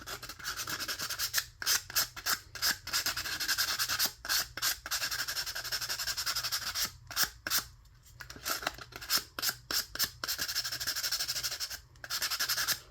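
Close, rapid scratchy strokes of 150 grit sandpaper roughen the cardboard motor tube of an Estes Alpha III model rocket. The rubbing comes in quick bursts with brief gaps between them, and nobody speaks.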